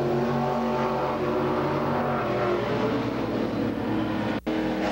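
A 1962 Chevy II and an altered street roadster racing at a drag strip in the late 1980s or early 1990s, a loud sustained engine roar held steady throughout with a brief gap near the end.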